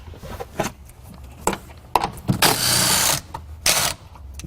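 A power ratchet spins off 13mm bolts from the hybrid battery frame of a Ford Escape or Mercury Mariner, with close clicks and knocks around a loud whirring burst about a second long, then a shorter burst after it.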